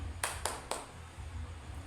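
Three sharp claps from a group of schoolchildren ring out in quick succession, then stop, leaving a low background hum.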